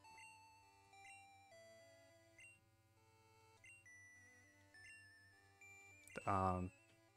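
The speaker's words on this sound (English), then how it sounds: "Oh, we're getting a call from Todd." Steady electronic beeping tones of an incoming phone call ringing in Pokémon Crystal, looping under chiptune music for several seconds, then broken by a short loud burst near the end.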